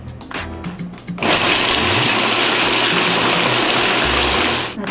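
A kitchen chopper spins carrots and celery. A few short pulses open it, then it runs in one loud continuous whirring grind that holds for several seconds before easing off.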